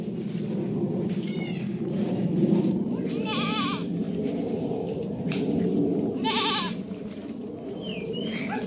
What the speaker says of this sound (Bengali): এগুলা সব আমাদের ছাগল।